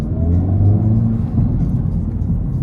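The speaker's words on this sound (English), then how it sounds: "I can hear the induction noise under the hood there, and it sounds fantastic" Engine induction noise from a 2024 Acura Integra Type S being driven under light throttle: a steady low rumble and whir fills the cabin, rising slightly and then settling, loud and continuous, with no talking.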